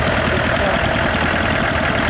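An old tractor idles at a spring fayre parade in an arena, a loud, close, steady engine chug with a rough, knocking pulse that carries on without a break.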